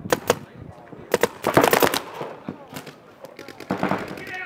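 Paintball markers fire in the snow as sharp bursts of rapid pops, some in quick strings, close and loud, with people shouting and talking between the volleys.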